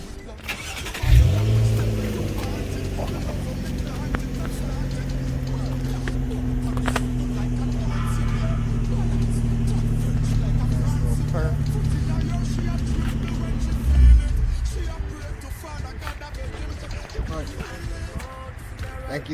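A car engine starts with a sharp crank and settles into a steady, loud idle after a CVT-to-manual transmission swap, humming evenly for about thirteen seconds before shutting off, with a voice speaking briefly.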